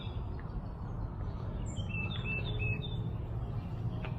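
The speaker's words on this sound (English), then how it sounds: "the birds land here, here, here, sometimes even on the camera" Small birds chirp faintly around a perch platform on a pole on the windy Virginia coast, a few short, high tweets scattered over steady wind rumble.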